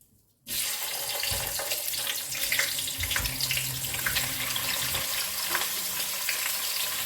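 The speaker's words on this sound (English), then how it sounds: "You have to keep washing your hands, okay?" A kitchen tap suddenly turns on and runs in a strong, steady splashing stream as hands are washed under it while cooking, with faint clattering and rubbing over the continuous hiss of water, no speech.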